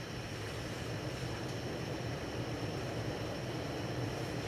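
Hunter Original 52-inch ceiling fan from 1995 running on high speed, a steady broadband whoosh of moving air with a low motor hum, unchanging and continuous throughout with no talking.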